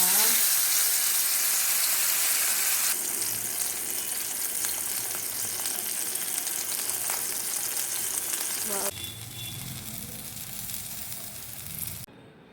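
Pomfret fish coated in masala fries in a hot pan with a steady, loud, close sizzle and crackle that eases slightly partway through and stops abruptly at the end.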